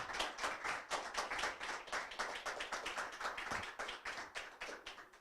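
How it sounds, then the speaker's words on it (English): A small audience at a job search panel claps in a quiet, sparse round, individual hand claps distinct and rhythmic at moderate distance, fading slightly toward the end. "let's give these guys a round of applause"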